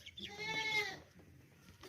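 A fat, clean dairy goat lets out one loud, wavering bleat at close range that fades away, followed by quiet.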